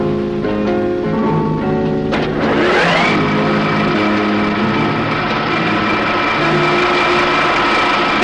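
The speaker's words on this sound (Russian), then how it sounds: "Эта машина имитирует работу вращающейся оси, к концам которой приложен груз." A fatigue testing machine spins a loaded rotating axle specimen, starting with a few irregular knocks before winding up into a sustained loud mechanical whine and hum that holds steady.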